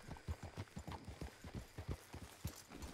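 Horses walk along in the video game Red Dead Redemption 2, their hooves making a steady, rhythmic clip-clop that is quiet and fairly close, with no talk over it.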